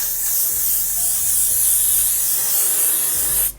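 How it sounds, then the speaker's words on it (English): Makeup setting spray mists onto a face in one continuous close, loud hiss lasting several seconds before cutting off abruptly. "It's just a quick spray your face, lock in the makeup type of setting spray."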